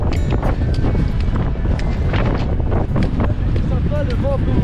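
Strong wind buffets the microphone continuously on a hike in Argentina, a loud roaring rumble with gusty bursts, while people talk faintly beneath it.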